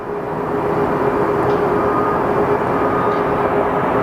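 Jet engines of an airliner fitted with noise-reducing chevrons roar at an airport, a steady, loud, broadband rush that holds constant throughout with no voices.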